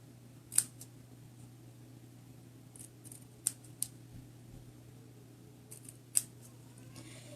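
Paper banner tips are cut with scissors in a few short, crisp snips spread apart, close and quiet over a steady low hum.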